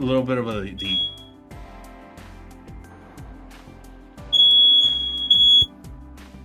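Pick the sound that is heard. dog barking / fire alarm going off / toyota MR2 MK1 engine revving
fire alarm going off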